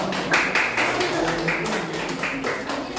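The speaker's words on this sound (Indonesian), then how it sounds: "Tepuk tangan untuk kelompok 1." A classroom group gives a brief burst of applause for a presenting group, with quick, uneven claps near the front that rise and fall over a few seconds.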